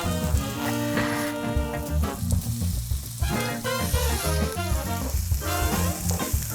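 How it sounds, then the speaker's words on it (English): Onions, garlic and scotch bonnet sautéing over medium heat in a pan, a steady soft sizzle that runs on under background music throughout. "we've got this on a medium heat, so we're going to saute off all the veggies"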